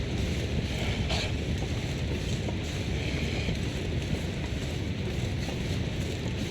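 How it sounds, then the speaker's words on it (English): Strong wind gusting near a waterfall in the survival game The Long Dark, a loud, steady roar of rushing air and water noise that fills the whole stretch without a break. "I'm passing by a waterfall or there's very strong winds, the sound isn't great"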